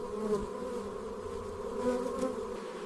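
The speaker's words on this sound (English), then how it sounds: "The bees then use their wings to help remove excess moisture from the nectar." Close, steady buzzing of honeybees inside the nest as they fan their wings to dry nectar, a sustained drone with layered wingbeat tones that waver slightly in loudness.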